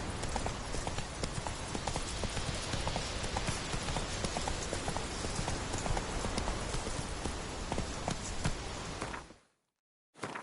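Hooves of the horse Roach clip-clopping in a fast, steady rhythm in The Witcher 3, close and continuous for about nine seconds before cutting out abruptly.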